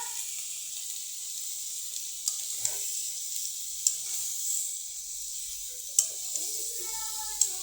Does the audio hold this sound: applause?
no